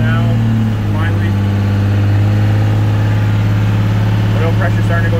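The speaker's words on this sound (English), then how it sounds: "As soon as the engine fired, I went right to 2000 RPM." Cummins 188/220 engine running at high idle around 2000 RPM during flat tappet cam break-in, a loud steady drone with a strong low hum, close and continuous, with faint shifts in tone partway through.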